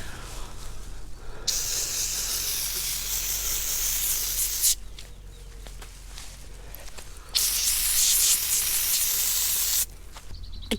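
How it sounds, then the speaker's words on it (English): Cleaner is sprayed onto the outside of a lid in two long, loud, close hissing bursts separated by quieter gaps with faint handling noise and a low steady hum beneath. "Actually, I'll spray the outside of this first."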